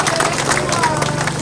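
Dense, steady applause and clapping from a crowd gathered at the opening ceremony of a water project in Maziwang'ombe, Micheweni, with a murmur of voices mixed in throughout.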